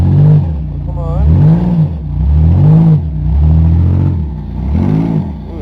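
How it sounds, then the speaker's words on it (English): A vehicle engine revs hard in repeated rising and falling surges while a tire spins, loud and close, with the pitch climbing and dropping about every second. "Ooh, that tire's spinning."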